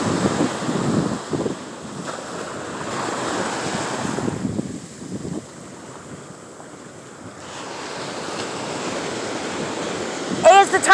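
Ocean waves and surf wash steadily onto a beach near Malibu, with rolling crashes under heavy wind buffeting the microphone and faint voices in the background.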